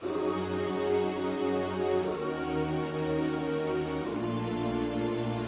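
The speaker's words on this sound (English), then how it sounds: "And to give that pad a bit more depth, we added some strings." A string section is layered over a synth pad and pianos in a K-pop track, making thick, sustained chords that shift twice, a warm, full blend at steady volume.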